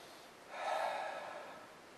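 A close, soft nasal sniff drawn over a glass of Belgian abbey ale (a Stoudts Brewing tripel with Belgian yeast), one sustained inhale of about a second, alone with no talk.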